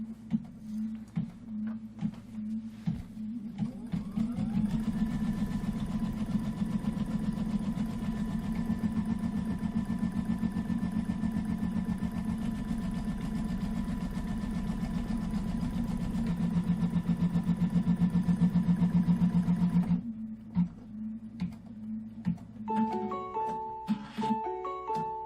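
A computerized embroidery sewing machine stitches out a quilt-block placement line with a steady, fast mechanical hum and rapid needle clatter for about fifteen seconds, then stops, followed by a few short electronic beeps.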